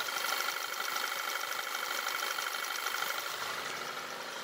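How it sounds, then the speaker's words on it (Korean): A second-generation Audi A3 2.0 TFSI engine with 90,000 km idles steadily up close, a smooth even hum with a faint rhythmic ticking, settling slightly quieter toward the end. "차량 엔진 소음 먼저 들려드리면은"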